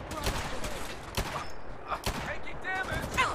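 Gunfire in the video game Fallout 4, several sharp shots in quick bursts during an assault on Bunker Hill, mixed with someone speaking.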